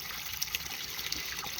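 Water from a pond pump that had been airlocked starts to trickle back down: a soft, steady wet hiss with faint splashes, quiet and close, no voices.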